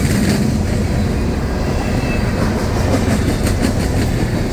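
An empty coal train with a distributed power unit rolls steadily along a long siding nearby, producing a loud continuous rumbling roar with faint metallic clatter and no pauses.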